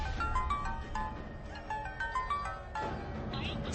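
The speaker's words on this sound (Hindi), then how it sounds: "दीपक हमेशा मेरा फोन उठाता है" A phone rings on an outgoing call in a TV drama scene, a repeating electronic tone pattern heard at moderate loudness over a low background rumble.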